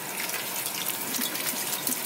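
Steady rush of tap water running into and splashing around a salad bowl being rinsed out, continuous and close with a bright hissing texture, no voices.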